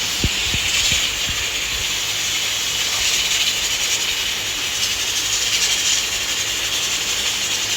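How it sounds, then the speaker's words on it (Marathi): A pressure cooker cooking rice and dal lets off a steady, bright steam hiss that runs unbroken at an even level, with a few low knocks at the start and no talking. "कुकर लावला तर शिट्टी व्हायला आलेली आहे"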